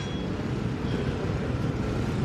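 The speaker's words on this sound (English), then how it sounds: "I don't even know if you can hear me because of the traffic here." Street traffic on a busy road in the Philippines, a steady dense low rumble of passing vehicles filling the whole stretch without pause.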